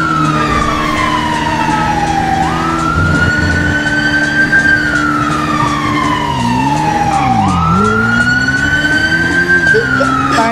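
Wailing police siren in a Grand Theft Auto V roleplay chase, sweeping up and down continuously and loudly across the whole stretch, with a second lower siren tone weaving beneath it and no talk over it.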